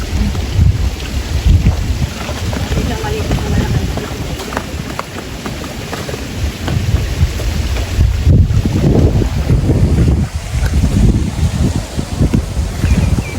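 Steady, blustery wind roars across the microphone at a milkfish pond, with low rumbling gusts that swell and ease throughout, and no voices.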